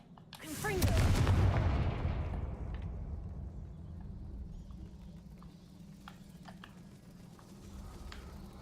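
A Confringo fire spell bursts in Hogwarts Legacy, a loud booming blast with a crackling fiery whoosh that swells quickly and then fades into a lingering low rumble and faint debris ticks.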